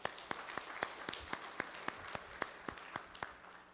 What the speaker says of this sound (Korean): 영광의 박수 올립니다